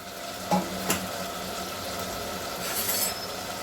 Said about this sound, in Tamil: இந்த கறியும் வெங்காயமும் நல்லெண்ணெயும் நல்லா கலந்து கொஞ்ச நேரம் அப்படியே வெந்துட்டே இருக்கட்டும்.